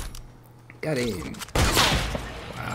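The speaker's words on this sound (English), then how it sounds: "Oh, it was a hunting rifle." Hunting rifle shots ring out in a video game: two loud, heavy blasts about a second apart, each followed by a rumbling tail amid other game noise.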